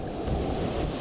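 Stormy sea surf and strong wind along a shoreline, a steady broadband roar of breaking waves with wind buffeting the microphone throughout, no voices.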